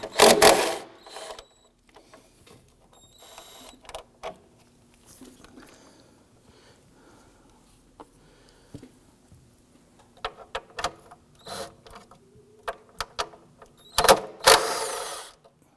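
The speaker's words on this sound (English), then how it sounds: "we're going to use our 10mm socket with extension" A 10mm socket on an extension works a bolt on a 2.7L V6 engine of a 2015-2020 Ford F-150, giving faint, sparse ratchet clicks among soft handling noises, with louder clunks at the start and end.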